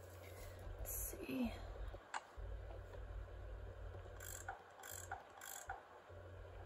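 Ratcheting, clicking mechanical turns in the Nancy Drew game Last Train to Blue Moon Canyon as bolts on a panel are unscrewed, soft and close, with short bright clicks repeating toward the end and a voice murmuring underneath.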